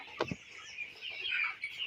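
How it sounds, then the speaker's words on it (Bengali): A flock of 24-day-old broiler chickens in a poultry farm shed makes a continuous chorus of clucking and cheeping, with a couple of louder knocks near the start. "এগুলো হচ্ছে আমাদের প্রভিটা বাচ্চাগুলা"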